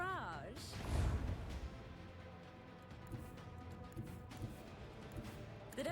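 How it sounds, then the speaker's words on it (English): Macro cannon barrage in the game Rogue Trader, opening with a deep, booming blast that rolls into a long rumbling roar, followed by scattered thuds and impacts under a spoken voice. "Initiate macro cannon barrage."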